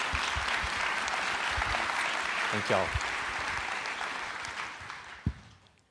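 A church congregation clapping their hands in unison-like steady applause at a Sunday service, a broad even wash of claps that gradually fades, with someone speaking briefly over it near the middle.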